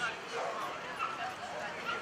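Dogs at a dog festival in Bouc Bel Air yipping and whimpering amid crowd noise, several small yelps near and far, with people talking over them.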